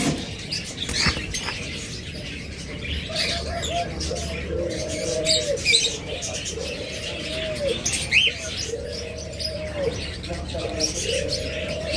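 Ringneck parakeets, two females among other caged pet birds, call in repeated short warbling notes with chirps throughout, while faint talk and shuffling sit in the background.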